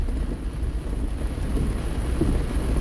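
Heavy rain pours down while driving through a Philadelphia street, a loud constant wash of water with a deep low rumble underneath that could be thunder, steady from start to finish with no voices.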